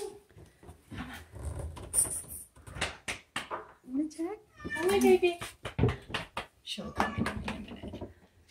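A cat meows and cries around 5 seconds inside an old hotel, a drawn-out wavering call heard amid people talking nearby and some footsteps and knocks.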